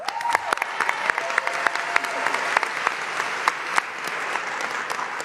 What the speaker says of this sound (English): give everyone up here a round of applause